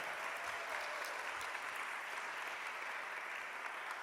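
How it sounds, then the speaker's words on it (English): Steady, sustained applause from an audience at the opening ceremony of the 111th American Ethical Union Assembly, a dense even wash of clapping with no speech over it. "Let's give that a round of applause all in itself."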